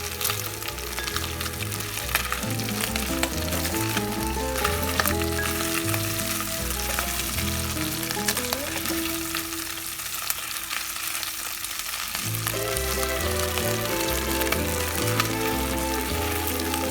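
Pieces of pork chicharrón fry and brown in a pan with a continuous crackling sizzle that stays steady throughout, heard beneath loud background music.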